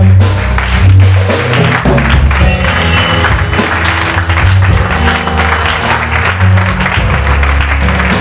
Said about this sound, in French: Bien-aimé, acclame le Seigneur.